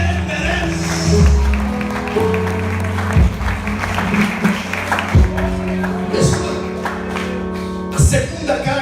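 Audience applause and cheering at a church sermon, a sustained wash of clapping with raised voices and a steady low hum throughout, full and close.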